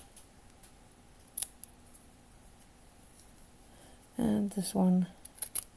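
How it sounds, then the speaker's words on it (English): Scissors snip the corners off a miniature room box, giving a few short, close cutting bursts late in the clip after a brief spoken remark. "I am going to cut off these corners here."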